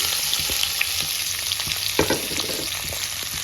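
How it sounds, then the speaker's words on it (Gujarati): Spices, onion and tomato frying in hot oil in a pan, a steady close sizzle with occasional stirring clatters and pops, no voices over it. "અહીંયા મેં ઓઇલ મૂકી દીધું છે જે ઓલમોસ્ટ હવે ગરમ થઈ જ ગયું છે આપણે આ મસાલા એ નાખી દઈશું"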